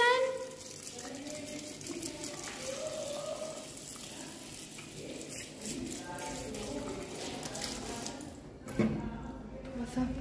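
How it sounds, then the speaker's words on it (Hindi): Water pours steadily from a kitchen tap onto boiled potatoes for several seconds, with people talking over the running stream and a brief clatter near the end. "थोड़ा सा पानी मैंने डाल दिया है आलू में, जल्दी से ठंडा हो जाएगा।"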